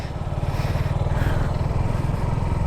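A motorcycle rides along a road beside a riverbank in Bangladesh, its engine a close, steady, throbbing drone that holds an even pace throughout, with no talk.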